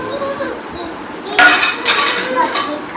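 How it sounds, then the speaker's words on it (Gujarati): Dishes, pots and steel utensils clink and clatter while being washed, with a cluster of bright metallic knocks after a quiet start and scattered clinks following. "વાસણ ધોવાય છે"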